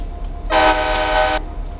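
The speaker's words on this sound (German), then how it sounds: "Und wenn ich hupe, mal gucken." The horn of an F59PHI locomotive in the Train Simulator video game sounds once as a single steady, loud, near blast lasting about a second, over a low engine hum.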